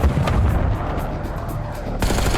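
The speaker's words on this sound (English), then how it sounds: "I'm getting shot in the back." Gunshots in the video game Call of Duty Warzone, a quick series of rapid cracks with a booming low end, close and loud, ending on a heavier burst.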